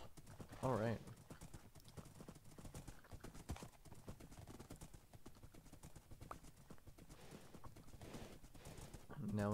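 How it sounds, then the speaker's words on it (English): Horse hooves clip-clop steadily in a Lord of the Rings modded video game, with an occasional whinny and faint birdsong in the background while a voice talks over it. "that is his horse."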